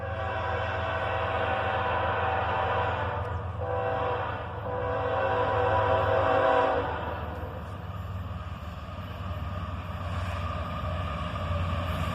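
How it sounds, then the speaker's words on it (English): A very short horn salute from a southbound double-stack freight train led by a pair of ES-44 ACH locomotives, the horn blowing briefly over the continuous rumble and clatter of passing railcars nearby. "a very short horn salute from the engineer there, as a pair of ES-44 ACHs lead a big double-stack train southbound"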